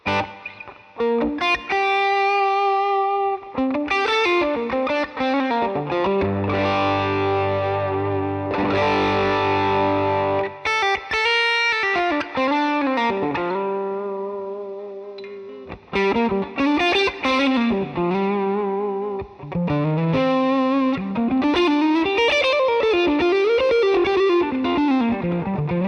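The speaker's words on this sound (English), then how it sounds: "I really love the sound of the plate reverb." Distorted electric guitar through a Mesa Boogie amp model with plate reverb plays sustained chords and melodic lines, loud and steady with a lush, washing tail.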